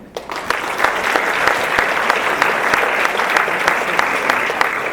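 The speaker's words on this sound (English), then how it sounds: "let's give them another round of applause" Sustained applause from a conference audience at an international event on war-affected children, a dense, even patter of many hands clapping that starts abruptly and carries on strongly.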